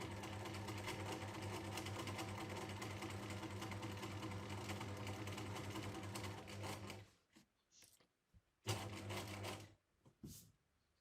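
A sewing machine runs steadily for about seven seconds while stitching a gathered sleeve head sample with back stitches, then stops, followed by a few short, quieter bursts and handling sounds.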